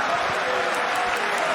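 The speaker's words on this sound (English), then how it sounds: "Get a nice round of applause." Crowd at a kickboxing fight between Badr Hari and Arkadiusz Wrzosek applauding, a steady wash of clapping from a large audience under commentators' voices.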